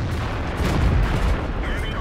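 Tank cannon fire in World of Tanks, a dense rumbling barrage of booms and low blasts running continuously under a busy battle mix, with no single crisp shot standing out.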